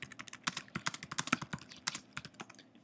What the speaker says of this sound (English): I'll go ahead and type this in.